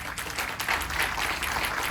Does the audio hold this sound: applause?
yes